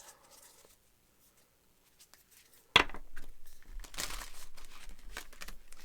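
After a near-silent stretch, a sharp snap starts a run of close, papery flicking and riffling as tarot cards are shuffled by hand.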